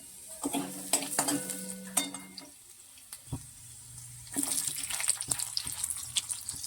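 Onion is fried and stirred in hot oil in a wok, with intermittent metallic scraping and clinks over a rising, close sizzle.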